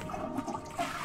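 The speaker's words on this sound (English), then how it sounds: "I had to flush it, I'm sorry." A toilet flushes in the video game Perception, a brief, quiet rush of water with a soft trickling wash and no voices.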